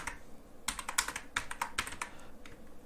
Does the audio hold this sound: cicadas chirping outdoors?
no